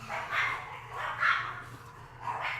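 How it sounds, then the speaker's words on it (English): Several dogs barking in a household, a muffled run of repeated barks rising and falling over a steady low hum, somewhat distant and with no talk over it. "My dog is going to go handle the other dogs."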